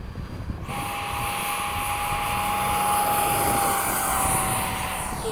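An FMS 70mm F/A-18 RC jet spools up loudly and takes off into cloudy skies, its steady ducted-fan whine and roar filling the clip after a short quieter start, with no voices.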